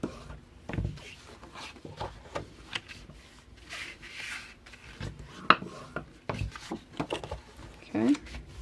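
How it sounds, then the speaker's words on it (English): Paper for a handmade baby mini album is folded along score lines and burnished, giving soft rubs, scrapes and light taps in short bursts, close and fairly quiet. "let's fold down and burnish each of our score lines"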